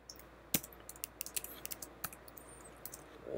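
Close computer keyboard typing of an email and password at a quiet desk, a string of light, uneven key clicks with a few sharper strokes and no speech.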